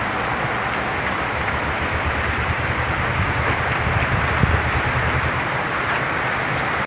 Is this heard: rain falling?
yes